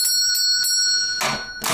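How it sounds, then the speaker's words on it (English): A small bell hung above a barbershop door in an alley rings three times in quick succession, bright and tinkling, followed by a louder burst of noise. "The small bell above the door twinkled as I walked in."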